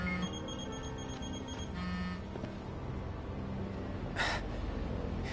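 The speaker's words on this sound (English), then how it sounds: "But isn't that your phone?" A phone rings in the Final Fantasy XV video game with a steady electronic beeping tone for over a second, then stops, under a low background hum and a brief hiss near the end.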